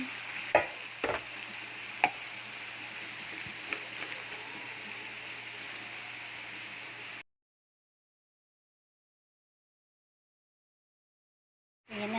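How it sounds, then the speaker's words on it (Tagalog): Ingredients for Filipino sopas sautéed in a pan give a steady, moderate sizzle with a few sharp clinks and stirring knocks near the start. The sound cuts to silence midway and returns briefly at the very end. "Ako gusto kong ginigisa ko muna sila."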